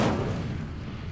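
A fire spell is cast in the Hogwarts Legacy video game: a single loud, booming burst of flame with a rumbling roar that slowly fades over about a second, heard alone.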